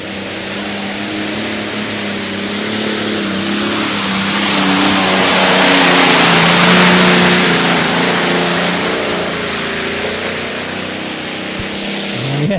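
A light modified pulling tractor at a tractor pull in Bernay roars loudly at close range, its engine climbing in a long sustained rev that swells toward the middle and then eases slightly, with faint voices underneath.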